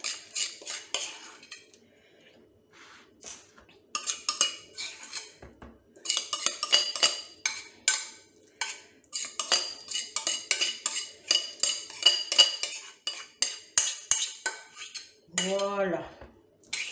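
A spoon scrapes and clinks steadily around a bowl while finishing a vegetable cake batter, in close, busy bursts with short pauses and a brief rising squeak near the end.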